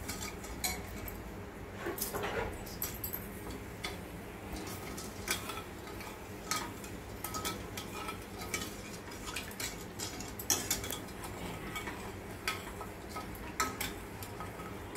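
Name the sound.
stirring melting sugar syrup in a pan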